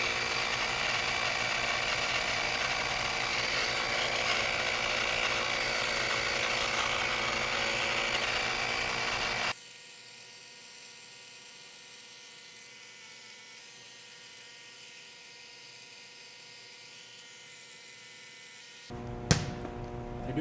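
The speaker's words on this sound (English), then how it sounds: "Just to get them ready to go, I'm going to use a pump." An electric air pump runs loudly for several seconds while inflating basketballs for an indoor arcade game, a steady motor drone that cuts off, leaving quiet hum, followed by a brief knock near the end.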